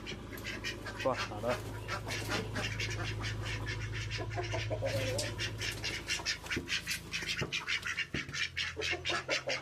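A flock of ducks quacks continuously in rapid, overlapping calls close by, with a steady low hum underneath and a person speaking briefly.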